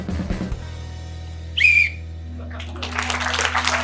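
A single sharp whistle blast, short and fairly loud, sounds in an indoor game-show room against a steady low hum, with some rustling and background noise before and after it.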